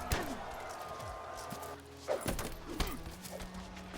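Cavalry horses in the ancient Roman strategy game Imperator: Rome make clip-clopping hoofbeats in irregular bursts, mixed with thuds and other battle noise. Someone talks over the sound.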